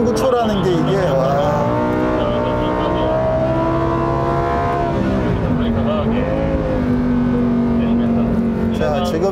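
A Lamborghini Huracán EVO in Strada mode accelerates, its engine note climbing steadily through rising harmonics, loud and continuous for about nine seconds, with a voice speaking over it.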